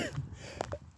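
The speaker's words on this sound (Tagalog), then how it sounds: "Umuubo na rin ako guys." A man coughs once, a short close burst at the very end, after quiet outdoor background near a flock of ducks.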